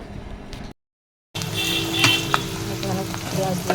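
Bitter gourd and potato slices frying in plenty of oil to crisp them, a steady close sizzle with a few sharp crackles and a brief dropout near the start.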